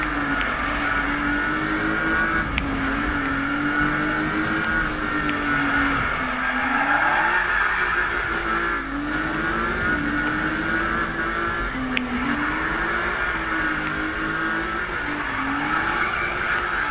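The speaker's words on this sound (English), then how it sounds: "You can't tell me that ain't sick drifting there" A car drifts through a long race in Need for Speed (2015), its engine droning steadily while it revs up and down through slides and the tyres squeal and skid continuously with no talk.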